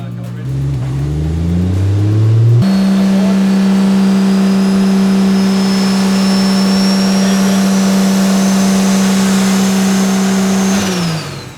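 A car engine, a D-Shorts 1000 fitted car, holds a high steady rev for about eight seconds with a loud sustained drone and a whine, then drops back. Talk and lower engine noise come before it.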